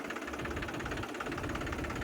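A 2011 Mahindra 275 DI tractor's diesel engine idles nearby with a steady, rhythmic knocking throb throughout, alone without talk.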